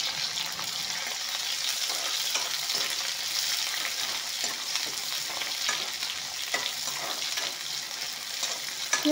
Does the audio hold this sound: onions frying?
yes